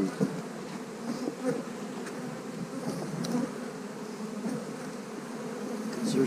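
Honey bees buzz steadily in an open hive box, a dense, continuous close drone with individual bees flying past, no talking.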